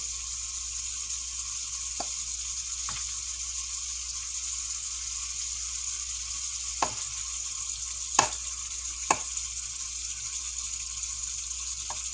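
Salisbury steak patties brown in a pan with a constant high sizzle, broken by a few sharp clicks and taps, all at a steady close level with no voices.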